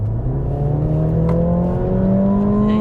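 A Mercedes-Benz CLA engine revs hard under full acceleration, a loud close droning note climbing steadily in pitch without a break.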